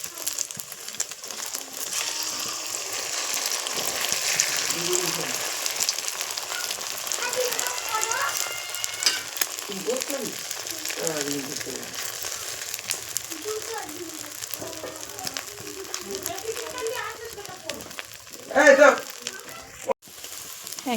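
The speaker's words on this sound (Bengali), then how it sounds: "ও ডিম ভাজা খাবে বলে, তাই ওর জন্য ডিম ভাজছি।" An egg fries in a pan with a soft, continuous crackle and sizzle, running under a voice talking through much of the stretch, with a brief louder scrape near the end.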